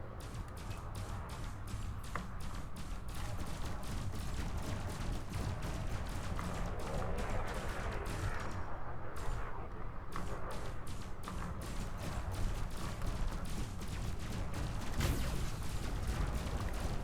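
Turrets in the space game Elite: Dangerous fire in a rapid, regular stream of sharp clicks and pops, sustained throughout at moderate loudness over a low mechanical hum.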